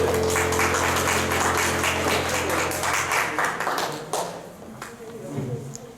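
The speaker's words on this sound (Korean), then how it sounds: "네, 박수로." A room full of children at a Sunday church service claps steadily for several seconds, the applause fading and thinning out toward the end.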